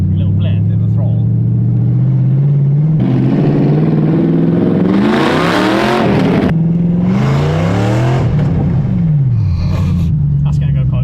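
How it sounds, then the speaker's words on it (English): A BMW E36 pulls away in first gear under throttle, its engine note rising loudly through a rev sweep, dropping, then climbing again close to the microphone. "first gear, let's just give it a bit of a Little blend. bit of a throttle."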